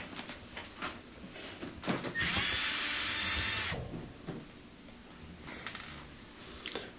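A power driver whirs in one steady run of about a second and a half, removing Phillips head screws from a bracket on a Thermador oven, close and fairly loud against a quiet background.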